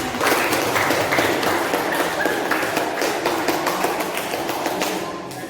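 Classroom group applauding at the close of a student project presentation in a teacher-training session, a dense patter of hand claps that starts loud and slowly thins out over several seconds.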